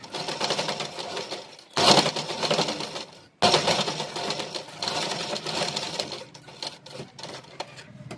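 Collar blouse stitching on a sewing machine makes a fast, rattling run of stitches that stops abruptly twice and restarts, close and loud, fading into lighter intermittent stitching near the end.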